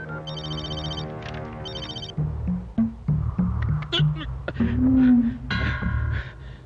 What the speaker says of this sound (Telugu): విశ్వనాథంకి ఫోన్ చేసి ఇవ్వు.